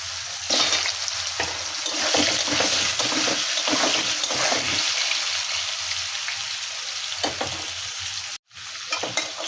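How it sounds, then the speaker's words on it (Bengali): Potatoes and kohlrabi fry in oil with dried chilli and cumin in a pan, giving a loud, continuous sizzle broken by stirring scrapes, then a sudden brief drop before the sizzling resumes. "আলু আর ওলকপিগুলো একটু ভেজে নিয়েছি"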